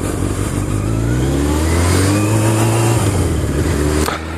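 A motorcycle engine revs and pulls away on a ride toward a gas station, a loud, steady mid-pitched drone with rising pitch sweeps, heard alone and close throughout.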